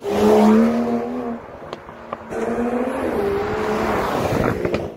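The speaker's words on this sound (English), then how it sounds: "But when you shift it into the sports mode, you hear this sound, and it's so loud." Aston Martin DB11 AMR twin-turbo V12 in sports mode, its exhaust roaring loud and close with a rising rev that drops, then builds again into a sustained snarling drone.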